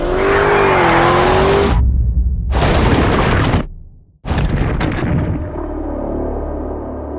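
A 2023 Lamborghini Urus EVO racing up the Pikes Peak hill climb, its engine roaring loud and close with a whining pitch sweep, cut by abrupt drops to near silence between bursts of full-throttle noise.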